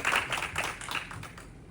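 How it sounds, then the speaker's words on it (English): Applause for Right Worshipful Stephen Orlando at a Masonic lodge officer installation, a short burst of clapping from a small gathering that fades quickly. "Let's give him a round of applause right here."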